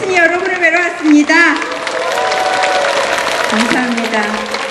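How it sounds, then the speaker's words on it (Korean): A church congregation applauds in welcome of a speaker at a worship service, with feet stamping as well; after a brief stretch of voice at the start, dense clapping continues steadily and fairly loud. "최대한으로 박수치고 발구르고 두드리면서 환영해 주셔야 돼요"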